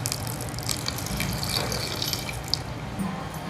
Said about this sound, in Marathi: अजून यामध्ये आपल्याला पाणी घालावं लागणार